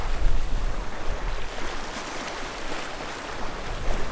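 Ocean waves rolling in from astern against a sailing boat on an uneven passage, a steady rushing wash with gusting wind noise and slightly stronger surges at the start and end.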